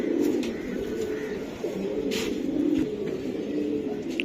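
Pigeons, including fancy breeds such as Budapest, Pakistani and Madrasi types, coo continuously at close range, with soft overlapping throaty calls over a steady background hum.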